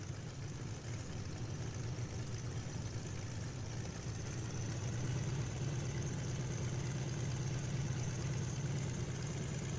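Boeing-Stearman Model 75 biplane radial engine in a flight simulator, a steady low droning idle with a buzzy, even tone, continuous and unchanging, with no voices.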